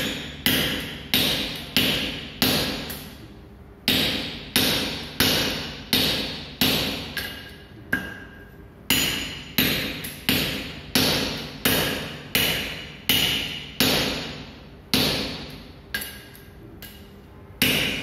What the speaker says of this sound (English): By using hammer and the metal flattener, the surface of the red hot piece is being made flatter and squarer.